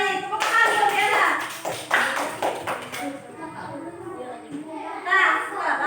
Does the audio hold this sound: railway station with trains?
no